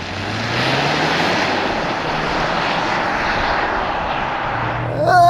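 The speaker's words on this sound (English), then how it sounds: "'23 Ford Maverick Tremor without launch control." A 2023 Ford Maverick Tremor pickup with a 2-liter EcoBoost four-cylinder launches hard without launch control, giving a loud, steady engine-and-road roar that holds for about five seconds.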